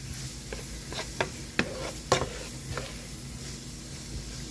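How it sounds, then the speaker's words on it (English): Seasoning being stirred into garbage bread filling in a pan, with a soft sizzle underneath and several distinct clicks and scrapes of a utensil against the pan, fairly close and without talk. "And I'm going to mix that on in."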